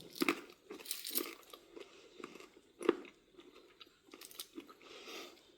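Crunchy, firm, apple-like vanilla-flavoured fruit slices being bitten and chewed up close, with irregular crisp crunches and softer chewing over several seconds.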